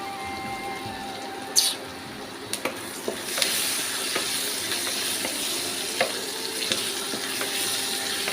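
Sago being fried in hot oil for sago pulao, steady loud sizzling throughout with occasional sharp clicks and scrapes of stirring, no talk.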